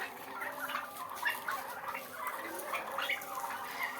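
Turkeys on a poultry farm gobbling and calling in a continuous busy chorus of overlapping bird voices, moderately loud and steady, with no talk.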